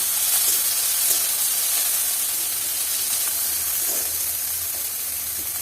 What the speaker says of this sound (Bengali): পেঁয়াজ রসুনটা অল্প ভাজা ভাজা হয়ে গেছে